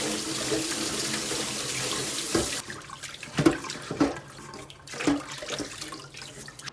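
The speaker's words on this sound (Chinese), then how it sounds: "再放点水，用钢丝球把边边给它擦一下" Tap water runs steadily as pork is rinsed, then stops and gives way to a few bursts of water splashing and scrubbing with steel wool close by.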